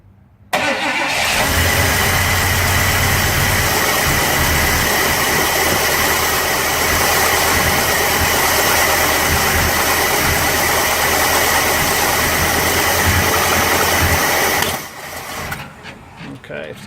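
A 1965 Pontiac LeMans engine catches and runs loud and steady for about fourteen seconds on a little gas poured into the bowl, then stumbles and dies away.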